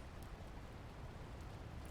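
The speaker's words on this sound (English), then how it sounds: "Somehow there's rain and a thunderstorm going on in the royal library." Steady rain hisses through an interior ambience in Shadow of War, set in a royal library during a thunderstorm, a faint even wash with no distinct thunderclap and no talk.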